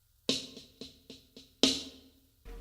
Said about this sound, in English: So the 6-stroke roll is basically this.